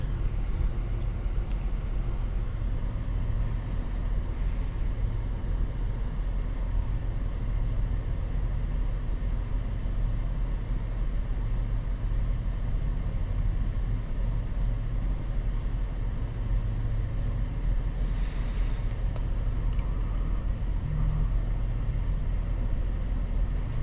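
A 2021 Chevrolet Suburban LT runs steadily on the road for a 0-60 test. A continuous low engine and road drone holds at an even level throughout, close and unbroken, with no talk.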